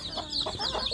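Native village chicken chicks kept in a plywood box give rapid, high peeps and cheeps close by, a busy continuous chatter.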